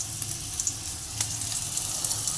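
Spice paste of turmeric, cumin, Kashmiri chilli and chilli powder sizzling steadily in a hot pan with potatoes, ginger and garlic, a soft continuous crackle alone at close range.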